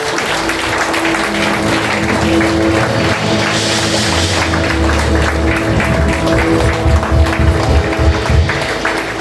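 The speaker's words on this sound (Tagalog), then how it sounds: "alayan po muna natin ang Diyos ng malakas na palakpak" A church congregation gives God a loud, sustained round of applause, dense clapping filling the room throughout, with some faint voices mixed into the crowd noise.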